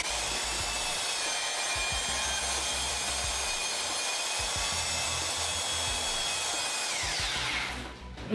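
A power drill with a paddle mixer churns thinset tile mortar in a loud, steady whine that holds for about seven seconds, layered with low gritty thumps and rumbles, then spins down at the end, with no voices.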